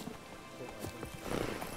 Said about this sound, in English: Need my horsey.